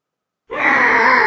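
After a brief silence, a loud dragon roar from a video game rises and holds steady, a rasping, sustained growl.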